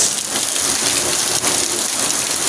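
Heavy rain pours down steadily at night, a dense, continuous hiss close by with no break, drumming on surfaces and plants.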